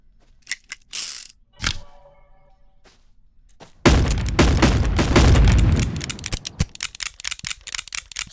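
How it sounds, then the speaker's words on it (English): Revolver reloading in the VR game Gorilla Tag: a few sharp metallic clicks and a ratcheting cylinder spin, then a loud dense burst of mechanical clatter that tapers into rapid rattling clicks. "You can still put ammo inside of here."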